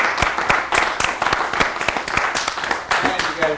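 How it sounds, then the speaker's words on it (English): A group applauds after a show car detailing class on a 1967 A.C. Cobra and a 1949 Packard, the dense clapping running steady for several seconds under a talking voice. "big round of applause for all you guys who did a great job"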